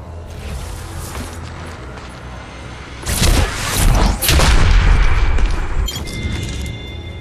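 Gunfire in the mobile battle royale Apex Legends Mobile, a sustained burst of loud booming shots and impacts lasting a few seconds after a quieter stretch of game ambience.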